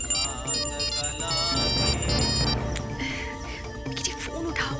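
A telephone rings with a steady, repeating electronic ringtone of bright, even tones, heard under a devotional hymn being sung and people talking nearby.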